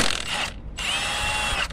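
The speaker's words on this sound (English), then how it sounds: "I can just take off the bolt just with the impact" Impact wrench removing a size 19 bolt during a timing belt job on a 2001-2005 Honda Civic, a close buzzing whir that stops briefly and then resumes.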